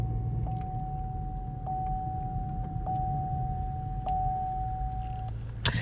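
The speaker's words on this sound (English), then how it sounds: "If you guys hear the seatbelt chime going off" A steady electronic chime tone repeating about every second and a quarter, five times, over low car engine rumble in a cabin.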